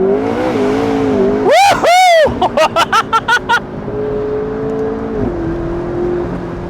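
A nearby McLaren turbocharged engine drones steadily while cornering, then revs hard in a burst, followed by a quick run of sharp rhythmic blips before settling back to a hum.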